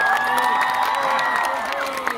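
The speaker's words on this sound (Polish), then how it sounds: "nawet dostałam oklaski." A pop concert crowd at an outdoor summer show applauds and cheers, a steady wash of clapping and shouts filling the space, loud and continuous with scattered voices above it.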